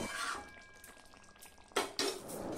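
A spoon stirs chicken kosha curry in a pot, scraping and clinking softly over a faint simmering sizzle, with two sharper clanks near the end.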